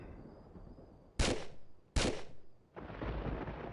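Two sharp, loud shots from a sniper revolver in Tomb Raider, the second a moment after the first, each with a short decaying tail, followed by a steady broadband game noise.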